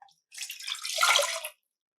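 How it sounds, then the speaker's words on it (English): Liquid pours into a saucepan in a kitchen while cacao is prepared, a single hissing splash lasting a little over a second and then stopping abruptly. "And now I'm going to pour it into my saucepan."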